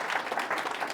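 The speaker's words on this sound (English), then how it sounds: "Big round of applause for Lisa Kelly." Brief, soft burst of audience clapping at a local history society gathering in Venosta, Quebec, honoring Lisa Kelly, an even patter of many hands heard from a distance.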